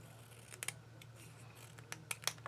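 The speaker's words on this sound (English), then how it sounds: "think I'm going to trim it a little more because this looks like a little wider than what I wanted" Scissors trim a paper card in a few quick, separate snips, faint and close against a low background hum, with no talking.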